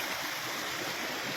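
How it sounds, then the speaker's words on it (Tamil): Stream water flowing down from Mount Kailash, a steady broadband rush and gurgle that stays constant and fairly close for the whole stretch, with no voices. "கைலாய மலையிலேருந்து தண்ணி மேலேருந்து கீழே அப்படி வந்துக்கிட்டே தான் இருக்கும்"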